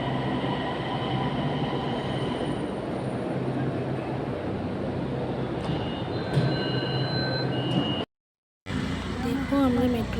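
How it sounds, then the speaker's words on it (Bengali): A metro train rolls through an underground station with a steady, loud rumble and brief high squeals from its wheels. The sound cuts out abruptly for a moment near the end. "মেট্রো চলে আসলো"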